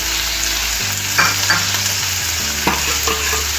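Chopped ridge gourd, green chili and tomato stirred in a hot pan for beerakaya thokku pachadi, a steady loud sizzle with repeated scraping spatula strokes, close up and without talk.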